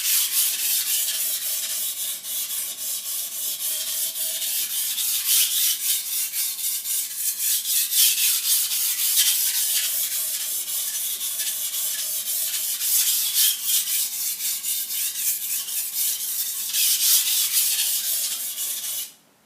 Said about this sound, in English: I'm going to sharpen this until I get a burr.